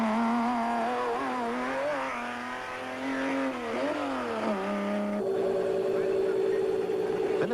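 A budget VW off-road race car at the 1991 Settlers Off Road Race in South Africa pulls away, its buzzing engine rising and falling through gear changes, then steadying into a higher sustained drone, fairly close and continuous.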